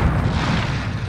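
A rocket explosion in Call of Duty: Warzone booms as one brief, loud blast with a heavy low rumble that stays dense to the end, with no talk.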